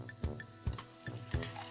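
Meat sizzles on a Korean barbecue grill in a steady frying crackle, with a few sharper pops and scrapes at roughly half-second intervals as it is turned.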